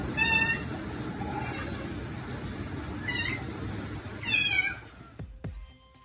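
Several cats meow in short bursts, spaced across a few seconds over a steady background hum, with one louder cluster of meows near the end.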